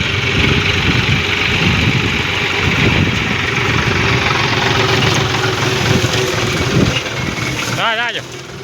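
A farm tractor engine idles at a cowshed, a loud, steady low rumble that runs nearly the whole time before a brief shift near the end.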